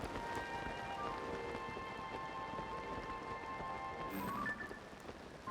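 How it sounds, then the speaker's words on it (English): Steady rainfall in the video game The Legend of Zelda: Tears of the Kingdom, a constant dense patter of drops over a faint background tone. It continues evenly throughout and no one talks. "It's also hard to see when it's raining"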